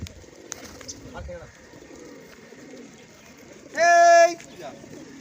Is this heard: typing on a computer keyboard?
no